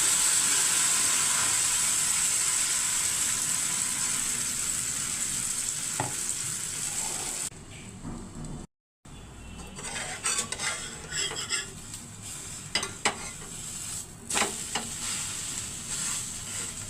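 An oats omelette fries in a pan with a steady, loud sizzle that fills the first half; after a brief dropout, quieter frying continues, broken by scattered clinks and scrapes of utensil against pan.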